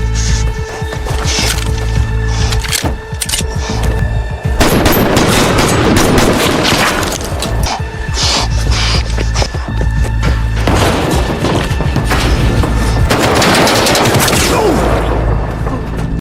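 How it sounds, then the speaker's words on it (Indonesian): Intense gunfire in a film shootout between ex-military robbers and a pursuer near a car: loud, dense, sustained bursts of rapid shots and booming impacts fill the whole stretch with no pause. "Dalam baku tembak yang intens, pergelangan tangan Nick sempat tertembak."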